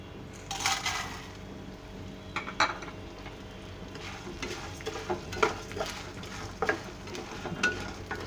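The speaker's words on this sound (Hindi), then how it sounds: "अब हम पैन में घी डालेंगे 2 चम्मच के करीब। और इसमें जो है अपने गोंद, इसको हम फ्राई कर लेंगे।" Edible gum (gond) frying in about two spoons of ghee in a pan, heard as a soft, low sizzle under intermittent spoon scrapes and light metallic clinks against the pan.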